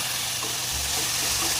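Cooked beans and peas stirred together with other vegetables on a hot tava for Mumbai-style tava pulav, giving a continuous close, loud sizzle with faint scraping of the spatula and no voices.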